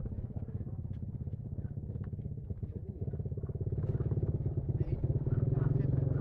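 A motorcycle engine runs with a steady low putter that grows slightly louder toward the end, as if drawing nearer.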